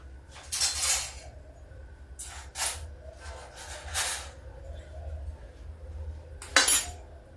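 A metal spoon scrapes and clinks against a pan while hot oil is spooned out during nimona (pea dish) cooking, in several short, fairly faint bursts with no talking.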